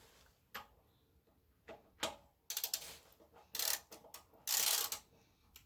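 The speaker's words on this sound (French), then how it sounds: "Donc hop, je prends mon racagnac." A ratchet wrench clicks in short irregular bursts while tightening on the rear wheel bearing of a Golf 4 cabriolet, close and fairly quiet with pauses between strokes.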